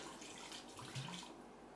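Water pours from a bottle into a cooking pot, a steady close splashing gurgle that holds for under two seconds without talk.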